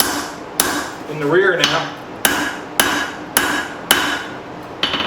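A hammer strikes a file being forged into a knife on an anvil, ringing blows falling at a steady rhythm about every half second, loud and close, with a brief voice between strikes.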